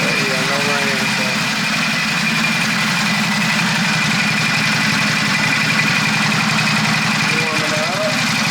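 A motorcycle engine idles while warming up outdoors, a steady low rumbling drone with even loudness throughout, a faint pitch wobble near the start and again near the end.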